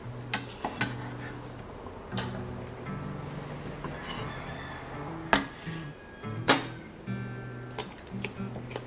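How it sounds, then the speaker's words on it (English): A fork cuts and mashes avocado into a guacamole mixture in a bowl, with soft scraping and occasional sharp clinks of metal against the dish, scattered irregularly at low volume over a faint musical tone. "Start cutting them up with a fork and mixing it in."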